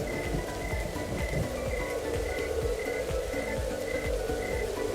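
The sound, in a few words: light rain starting to fall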